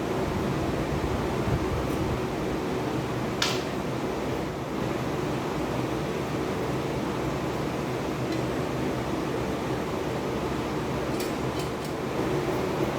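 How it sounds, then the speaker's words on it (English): Electric fan running steadily in a hot workshop during a Toro push mower repair, a constant close broadband whoosh with no clear changes and a few faint clicks. "I'm gonna apologize for the fan, but it's hot."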